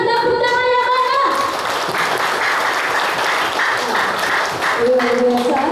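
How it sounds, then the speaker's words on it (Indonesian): A crowd at a volunteer declaration and inauguration event claps loudly and continuously, the dense applause running throughout while a voice and some tonal sound rise above it at the start and again near the end. "Boleh berikan tepuk tangan yang banyak."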